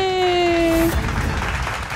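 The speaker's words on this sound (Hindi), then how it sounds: "तालियां।" A brief falling tone gives way to a wash of clapping hands, a dense burst of applause that carries on steadily.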